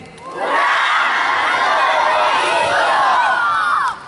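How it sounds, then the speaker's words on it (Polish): Schoolchildren at the opening of a new sports field shout a loud, sustained cheer together as a crowd, rising quickly and holding for about three seconds before cutting off. "Krzykniemy Hura! Mamy nowe boisko."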